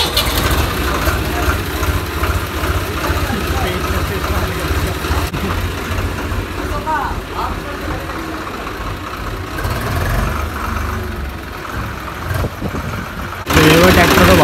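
A tractor engine runs steadily on a farm, with a continuous close idling rumble that picks up near the end. Someone talks over it.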